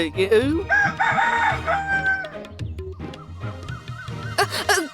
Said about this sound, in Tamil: கோழி கூவுறது கேட்டுச்சுல